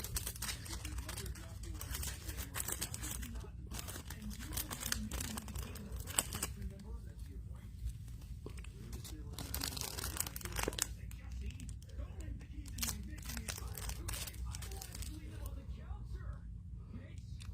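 Plastic crinkles and rustles up close for a long stretch as a sprayed car freshener is placed into a plastic bag, steady handling noise with occasional louder crackles and no talking.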